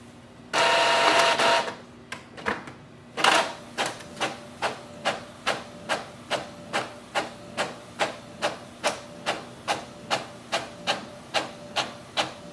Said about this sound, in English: if I print a document, so I can just open it, click on the print icon